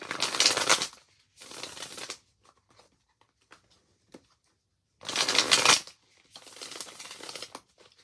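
Tarot cards shuffled in two bursts of riffling, a short pause with faint taps and a card drawn, then two more shuffling bursts, close and crisp with no talking.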